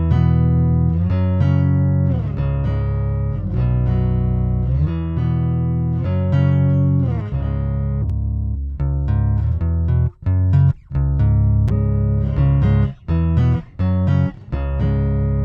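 A bass guitar runs through a mini whammy pitch-shifter pedal, sustained notes gliding and shifting in pitch, followed by short choppy bursts with brief gaps.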